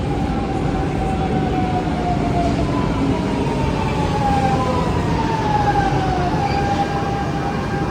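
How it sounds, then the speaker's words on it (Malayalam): A Lisbon metro train pulling into a station, a loud continuous rumble with a high gliding whine of the motors that falls in pitch as it slows. "പോർച്ചുഗലിലെ മെട്രോ വന്നു ഗൈസ്."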